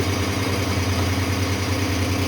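A 2017 Farmtrac 6055 tractor diesel engine idles steadily with a low, throbbing rumble that stays even throughout, close by and fairly loud.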